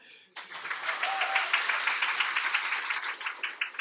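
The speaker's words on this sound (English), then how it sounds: "Everyone clap for Fred." An audience at a coding bootcamp demo day breaks into sustained applause, many hands clapping steadily after a brief quiet moment.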